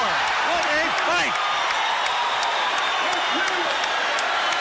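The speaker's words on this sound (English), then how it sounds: "The crowd is on its feet" Boxing crowd in an arena cheering at the end of the Leonard vs Hearns rematch, a steady roar of noise under an excited commentator's voice.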